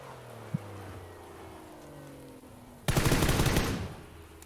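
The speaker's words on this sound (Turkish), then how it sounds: "Uzaktan neden sıkıyorsun?" Automatic gunfire in the video game PUBG: a sudden loud burst of rapid shots follows a quiet stretch with faint ambient hum, lasting about a second before cutting off.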